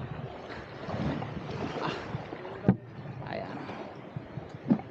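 A small boat moves over water amid gusty wind and lapping waves, with a couple of knocks against the hull and a brief spoken word.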